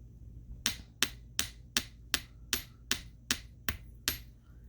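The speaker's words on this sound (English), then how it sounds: "Here's our bench block and our piece and our chasing hammer." A chasing hammer taps a metal piece resting on a steel bench block, ten crisp, evenly spaced metallic strikes about half a second apart, close and clear with no talking.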